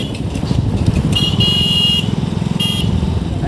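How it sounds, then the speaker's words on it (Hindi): Car horns honk in evening road traffic beside an idling motorcycle: two long, loud horn blasts, then a shorter one, sound over a low, rumbling engine, with no talk. "पीछे से कौन ज़्यादा हॉर्न दे रहे हैं"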